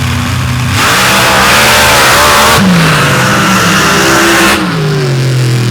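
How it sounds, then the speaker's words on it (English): Two rear-engine rail dragsters launch side by side in an open-class drag race at Paducah, a roaring, rising engine blast that swells loud, holds, then falls away, with pitch sweeps as they shift. "two of the fastest rear engine rails in the business get ready to go at it right now here in session 1 of the open class"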